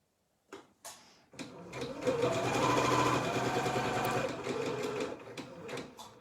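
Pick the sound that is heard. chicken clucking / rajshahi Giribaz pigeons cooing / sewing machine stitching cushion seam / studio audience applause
sewing machine stitching cushion seam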